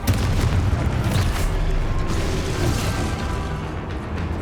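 A Confringo spell explosion in Hogwarts Legacy, a loud, dense rumbling blast that fills the whole stretch with a continuous low boom and crackle.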